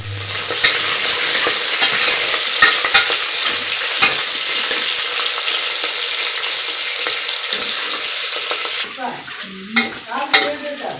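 Mustard seeds, garlic and green chillies fry in plenty of oil for chicken sambar, a loud, steady sizzle with crackling up close that suddenly drops away near the end, followed by a few faint clinks.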